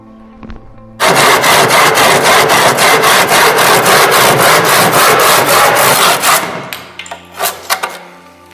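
Wooden bars being sawn by hand: after a short pause, loud, close rhythmic strokes rasp back and forth for about five seconds, then fade into a few scattered knocks and scrapes.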